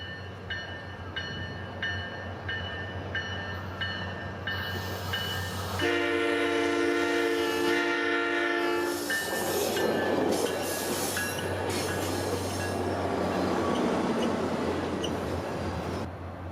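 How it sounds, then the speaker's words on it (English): A SunRail passenger train rumbles steadily into a station in Orlando, blasting its horn in long tones, with wheels squealing and rolling clatter as it nears. "southbound train P321 makes his way to the station"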